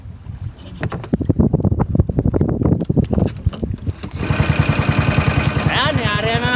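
A fishing boat engine in Palawan sputters and chugs into a steady running rhythm, with wind buffeting the microphone and water noise around it.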